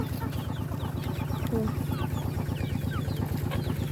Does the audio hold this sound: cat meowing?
no